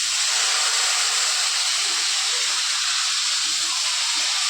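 Whole onions sizzle in hot oil with mustard seeds and cumin, a steady, dense hiss that holds evenly throughout without any talking.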